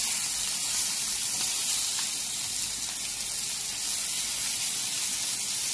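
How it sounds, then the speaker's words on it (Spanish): Sausages cooking in a pan for a full English breakfast, a constant dense hiss of sizzling fat with little variation, steady and fairly loud, no voices. "Aquí es que están terminando de hacer las salchichas."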